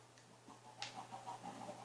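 Chickens or ducks in a video game give a few faint, soft clucks over a steady low hum.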